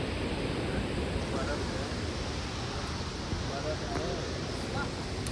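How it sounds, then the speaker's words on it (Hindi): Cold, clear glacier meltwater stream rushing down from the mountains along the Gobind Ghat to Ghagariya trek toward Hemkund Sahib; a steady, close, full-bodied roar of flowing water that holds evenly throughout. "पानी का फ्लो पूरा बिल्कुल ही ठंडा पानी और क्लियर साफ पानी, क्योंकि पहाड़ों में से आ रहा है।"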